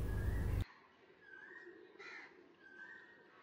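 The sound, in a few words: birds calling around temple campus, pigeons and other birds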